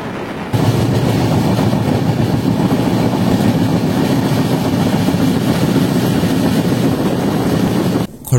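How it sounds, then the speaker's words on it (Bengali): The Tirupati–Puri Express, train number 17480, runs with a loud steady roar and rolling rumble heard close from aboard, carrying on unbroken for about eight seconds before cutting off abruptly. "ট্রেন নাম্বার 17480 তিরুপতি থেকে পুরীগামী তিরুপতি পুরী এক্সপ্রেস।"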